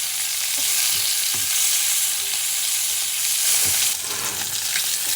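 A duck breast fries in its own rendered fat in a pan, with a loud, continuous crackling sizzle that stays close and steady and is broken by a few soft knocks, with no voices.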